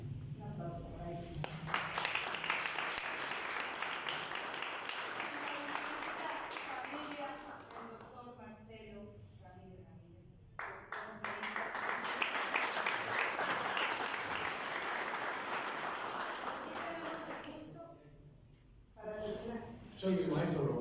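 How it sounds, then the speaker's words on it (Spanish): An audience at an academic presentation applauds in a long, dense wash of clapping that swells and fades in two waves, with voices speaking over it. "Un aplauso para ellos."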